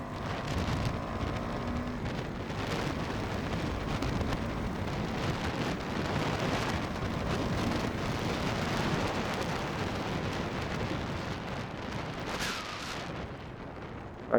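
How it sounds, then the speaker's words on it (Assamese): Heavy rain pours during a Duke 390 motorcycle ride, a dense continuous roar of rain and wind rushing steadily for the whole stretch, loud and close. "ফাৰ্ষ্ট দিনতে আজি তামাম বৰষুণ দিছে"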